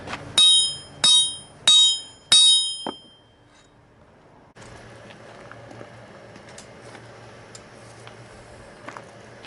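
Four loud, ringing hammer strikes land on steel at a blacksmith's anvil during work on a knife handle, each blow clanging and decaying before the next. A quieter, steady workshop background follows.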